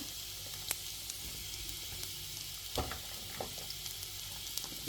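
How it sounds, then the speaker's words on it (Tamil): Onion and garlic frying in oil in a pan for a Kerala-style coconut chammanthi, giving a steady soft sizzle with a few brief stirring clinks and scrapes, heard at close range with no talking. "இப்போ லைட்டாக வறுக்க போகிறோம் லைட்டாக அந்த எண்ணெயில் வாட்ட போகிறோம்"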